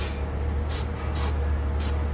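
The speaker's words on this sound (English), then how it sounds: "final step here is spraying it black" Four short bursts of black aerosol spray paint hiss at close range onto bare metal of a car subframe reinforcement, over a steady low hum, evenly spaced.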